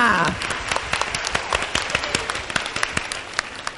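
A small group claps steadily for a few seconds, the applause fairly close and moderate in volume, with a brief voice at the very start.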